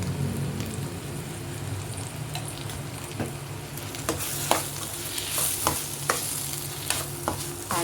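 Masala with chilli powder and garam masala fries in a pan, a steady sizzle punctuated by repeated scraping stir strokes and spitting crackles that grow busier toward the end, with no voices.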